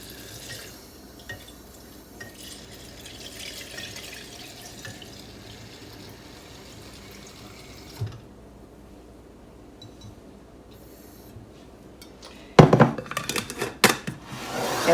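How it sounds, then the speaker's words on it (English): Water runs into a jar for cold brew, starting as a soft trickle and drip, going quiet briefly, then ending in louder, splashier pouring near the end. "we're going to fill it up with water"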